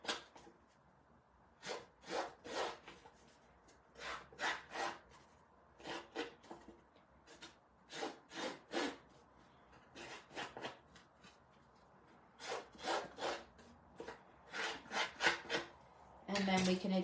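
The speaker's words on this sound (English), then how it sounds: "I'm just going to take my snips and go around just to distress it" Snips cut around the edges of a paper card to distress it, giving a series of short crisp snipping bursts in quick clusters with brief pauses, close and fairly quiet, with no one talking.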